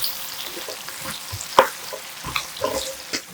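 Butter melts with soft, steady sizzling crackles in a pan with occasional sharper pops and light stirring scrapes, close up and without talk.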